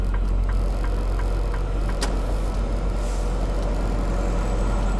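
Steady road traffic rumble from inside a moving car on city streets, a constant low engine and tire drone with a brief sharp hiss or click midway and faint passing vehicle noise throughout.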